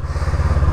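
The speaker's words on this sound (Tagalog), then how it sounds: "Ayun yung motor ni PRRD." A motorcycle engine runs close by with a loud, low, steady rhythmic thrum, pulsing evenly through a brief moment.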